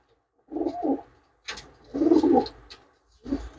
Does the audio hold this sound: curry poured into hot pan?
no